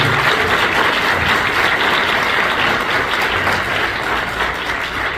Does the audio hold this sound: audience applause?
yes